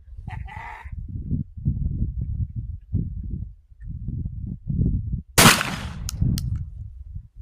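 A low recoil round fires from an FN semi-auto tactical shotgun outdoors in chilly weather, one sharp loud blast midway, preceded by low rumbling wind or handling noise and a brief faint click early on.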